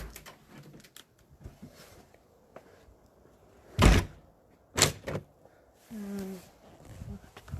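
A front door at home is shut and locked: sharp thuds and clunks from the door and lock, with a jingle of house keys and some rustling, close by and with no voices.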